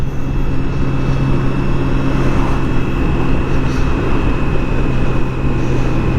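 A BMW K1600 GTL motorcycle accelerates along the Autobahn as a loud, continuous engine drone heard from up close, mixed with steady rushing wind noise.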